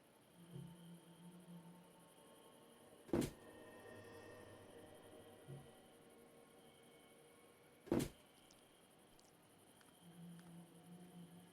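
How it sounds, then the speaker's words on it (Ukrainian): A door creaks open in the horror game Granny, a faint low groan heard twice among sharp knocks in a quiet, humming room. "Чуєте, відкрила двері?"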